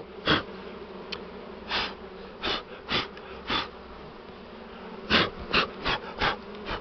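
Buckfast honey bees buzz in passes near a nucleus hive while unmated queens are introduced, loud droning swells that rise and fall in short bursts, about ten of them, over a low steady background.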